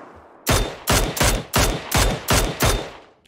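Seven loud, evenly spaced bursts of gunfire in PUBG, each a sharp automatic volley about half a second long, separated by brief pauses.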